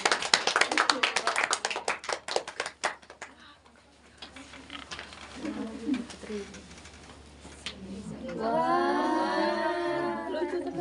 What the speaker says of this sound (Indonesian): tepuk tangan untuk yang tidak maju